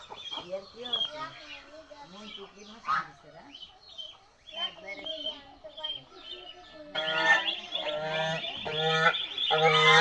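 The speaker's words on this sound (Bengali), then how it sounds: "আর এখানে রাজহাঁসের অনেকগুলো বাচ্চা উঠেছে দেখতে পাচ্ছেন" Geese honk repeatedly in loud, nasal bursts mixed with higher peeping calls from goslings, growing busier and louder toward the end.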